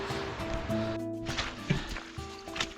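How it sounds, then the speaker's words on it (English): Stream water from rain and melting snow runs along a hiking trail on Mt. Waumbek, a steady broadband rush that stays close and continuous, with faint tonal hums and brief clatter mixed in. "the stream water is like flowing all the way in the trail"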